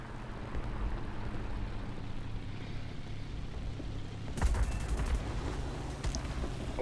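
Re 2005 fighter's cannons firing in War Thunder, a rapid burst of gunfire erupting over the steady drone of the aircraft engine partway through, followed by the engine alone.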